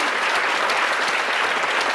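Audience applause in a television studio, dense steady clapping from a crowd that fills the whole moment at even loudness, with no talk over it.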